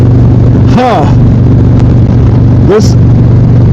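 A voice imitates a motorcycle accelerating through the gears on a county road after a bridge, making two short rising engine-like bursts over a steady, loud background hum.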